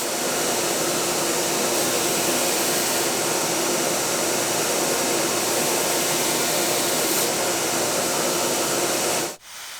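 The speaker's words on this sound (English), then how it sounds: "So let's go ahead now, get this back on the grinder." A hardened and tempered tool steel hunting knife blade is ground on a grinder, giving a loud, steady broadband rush that holds for nearly ten seconds before cutting off abruptly.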